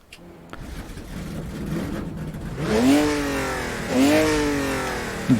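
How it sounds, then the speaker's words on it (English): A BMW 325i revs on a racetrack in a driving-sim game, the engine climbing through two rising pitch sweeps with a brief easing between them, loud and close with no voices. "Driving a totally not a BMW 325i on a track that's totally not Assen"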